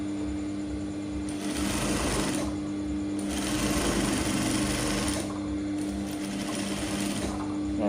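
Sewing machine running in steady bursts while stitching a top, its motor whirring continuously with three surges of faster stitching, close and alone with no talk.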